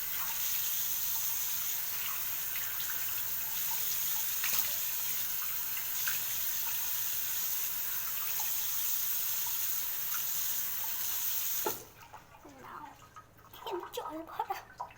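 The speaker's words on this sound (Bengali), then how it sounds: "জল ভরা, ইউ ক্যান সি।" Water running steadily from a tap into a container, a loud continuous gush that stops abruptly near the end, after which a voice speaks briefly.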